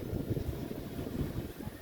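Strong wind gusts through roadside trees outdoors, a dense low rumble of wind buffeting the microphone that runs steadily through the whole moment, with no voices.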